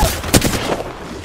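Gunfire in Apex Legends comes as a short cluster of loud, close shots with sharp cracks and a booming tail, all within about a second.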